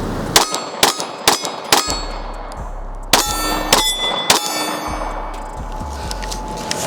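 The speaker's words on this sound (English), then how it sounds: "So let's try a couple of shots and we'll look at the slow motion." A SIG P365 pistol fitted with a compensator fires a string of sharp, loud cracks, several in quick succession with short gaps, each followed by a bright metallic ringing.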